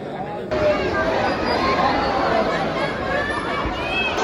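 Dense crowd of pilgrims queueing at Khatu Shyam temple, a steady babble of many overlapping voices close around, with shuffling and chatter continuing throughout.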